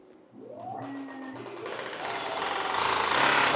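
Drone motors on a homemade ice airboat spinning up, a whine rising in pitch from near silence and building into a loud, steady buzzing drone that grows stronger toward the end.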